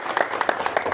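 A short burst of audience clapping at a parenting motivational talk, with quick irregular claps at moderate volume.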